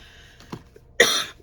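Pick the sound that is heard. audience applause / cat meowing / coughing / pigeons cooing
coughing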